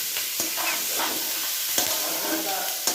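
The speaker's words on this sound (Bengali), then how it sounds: "দেখো আমরা এখন চাউমিন রান্না করছি" Chow mein stir-fried in a pan at a small picnic, with a steady close sizzle and hiss and sharp scraping taps of a utensil stirring the noodles.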